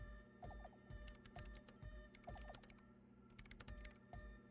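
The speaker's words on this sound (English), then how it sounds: "The keyboard typing sounds are very nice." Soft, quiet keyboard typing from the video game Disco Elysium comes in short bursts of keystrokes over a low background hum and music.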